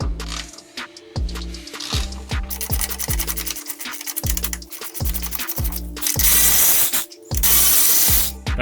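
Ratchet wrench clicking steadily on the top strut bolts of a 1999 Camaro, close and loud in repeated evenly spaced strokes, broken by brief hissing spray bursts and no talk.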